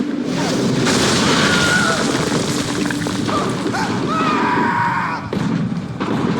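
Booming artillery explosions in Assassin's Creed III Remastered, heavy crashing blasts and thuds that stay loud and close over several seconds in a rough, continuous barrage, with a little faint voice mixed in.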